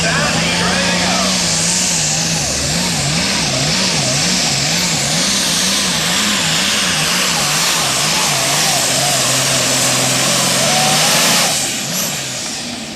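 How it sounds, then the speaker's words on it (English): A pulling truck's engine revving hard at a truck and tractor pull, loud and sustained with a wavering, rising pitch as boost and RPM build, under an announcer's voice. "The boost is coming up. RPM's coming up."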